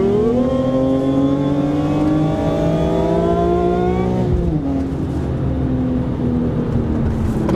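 BMW E46 M3 with a 4.1 final drive and rebuilt rear differential accelerating from low revs, engine note climbing steadily and loud up to about four seconds, then dropping back to a lower rumble as the throttle eases.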